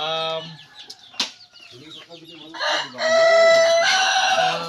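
Chickens being caught and moved to a breeding pen cluck and squawk up close, with a sudden burst of flapping wings and a rooster's crow rising above the commotion.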